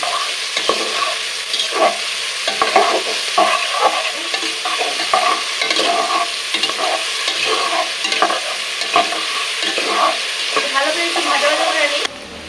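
Vegetables with spring onion and salt are stir-fried for fried rice in a hot pan, with constant loud sizzling broken by repeated scraping and clattering of a spatula at an irregular pace.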